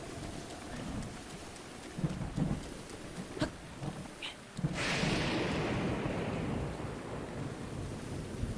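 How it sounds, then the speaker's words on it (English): Steady rain patters in the Zelda Breath of the Wild game world, with a couple of brief thunder rumbles and a crackling thunder burst partway through, continuing over the rainfall. "Just waiting on the rain to stop."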